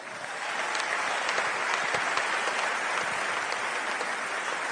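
A church congregation applauds and cheers for Jesus, a dense, sustained wash of clapping that holds steady throughout with no speech over it.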